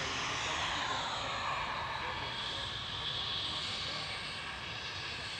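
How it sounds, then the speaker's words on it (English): An easyJet Airbus A320 Classic lines up for takeoff at Manchester Airport with a steady, moderately distant jet engine roar and hiss that holds evenly throughout and fades slightly near the end. "EasyJet 2091 to Carnia going next. GZUF A320 Classic."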